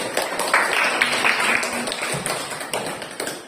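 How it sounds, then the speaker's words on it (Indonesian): Classroom students applauding a student group after its presentation, a brisk patter of clapping hands at close range with a few voices underneath, fairly loud and fading slightly toward the end. "Tepuk tangan untuk kelompok 3"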